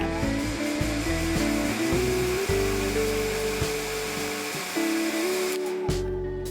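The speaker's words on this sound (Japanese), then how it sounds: "ドライヤーを使って乾燥させます。" A hair dryer runs close by to dry a watercolor pencil painting of the sea, a steady loud blowing whir whose pitch shifts slightly as it moves, then cuts off near the end.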